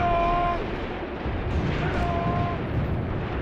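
Battlefield gunfire from Graviteam Tactics: Mius Front forms a continuous, loud, dense rumble of shots and booms, with faint tonal game sounds rising through it.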